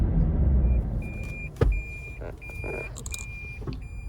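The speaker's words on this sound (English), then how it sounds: "as we're driving from Cherokee to Bryson City" A car driving on a mountain road between Cherokee and Bryson City, North Carolina, in winter, a steady low cabin rumble with a few interior clicks and a thump, plus repeated high electronic beeps.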